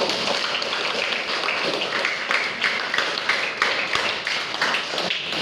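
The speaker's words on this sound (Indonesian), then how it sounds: "Tepuk tangan sekali lagi." A school class claps hands together during an Indonesian social studies lesson, a dense, steady patter of many hands that carries on for several seconds with no talking.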